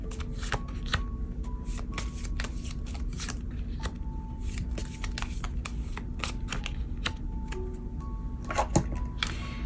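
Tarot cards shuffled by hand before a reading, a rapid run of crisp riffling flicks and taps, close and steady throughout with no talking.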